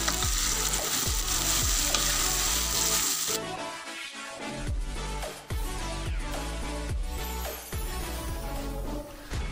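Boiled tteokbokki rice cakes stirred through peanut sauce in a pan, a steady close sizzle with repeated scraping and clacking strokes of the utensil, no talking.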